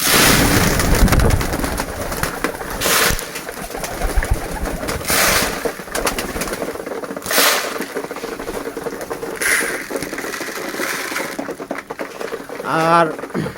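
Domestic pigeons cooing in a loft, repeated soft coos and bird calls close by over a noisy background, with a voice heard at times.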